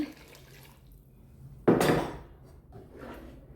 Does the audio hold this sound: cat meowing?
no